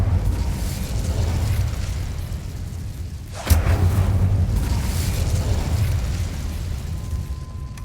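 The Incendio fire spell cast in the video game Hogwarts Legacy, a sustained roaring whoosh of flame that briefly dips and then flares again with a sharp burst before the roar continues.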